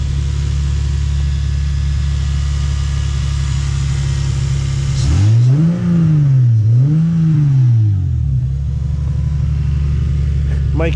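Naturally aspirated non-turbo 2JZ engine in a Lexus idling steadily, then blipped twice in a quick double rev around the middle before settling back to idle, heard up close with nobody talking.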